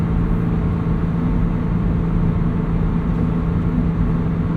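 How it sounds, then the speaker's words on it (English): Inside a Subaru BRZ cruising on the highway at 75 mph, a constant rushing roar of wind and tire noise runs throughout over a low engine hum, even and unbroken, with no talking. "I mostly hear wind and tire noise."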